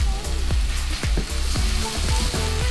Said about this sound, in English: Now we can turn the pan off, and the residual heat will continue to cook our omelet.